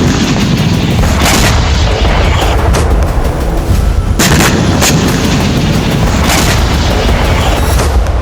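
Explosions and artillery fire from a large attack on Ukraine, a loud, dense rumbling barrage with repeated heavy booms and sharp blasts spread across the whole stretch, continuous and chaotic.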